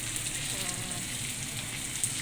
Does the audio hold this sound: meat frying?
yes